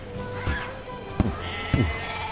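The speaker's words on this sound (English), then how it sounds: "Alright, let's go, Mr. Boar." In the video game NieR Replicant, a boar squeals and bleats in short bursts. The cries cut sharply through a constant game soundtrack.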